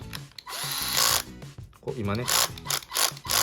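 A power screwdriver with its clutch set to torque 3 drives a screw until the clutch stops it, giving short whirring motor bursts and ratcheting clicks close by while a person talks over them.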